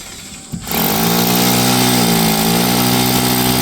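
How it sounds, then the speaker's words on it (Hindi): A solar-powered electric drill spins up after a short pause and then runs at a loud, steady whine, continuous and close, with no voices over it. "ड्रिल मशीन सौर ऊर्जा से चल रही है"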